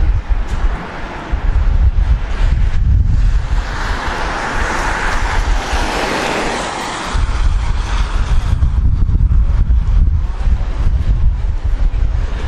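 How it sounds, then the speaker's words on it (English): Seafront ambience on the Blackpool promenade, with heavy wind buffeting the microphone over a continuous roar of waves and surf, loud and close throughout. "We are right on the seafront now"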